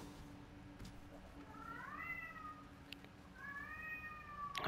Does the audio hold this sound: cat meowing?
yes